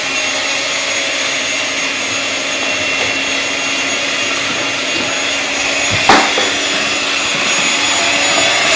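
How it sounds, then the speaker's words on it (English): An electric mixer runs on a low setting through a casting mould mix, giving a steady whirring drone with a brief clunk near the end, no talking. "I'm going to mix it on a low setting."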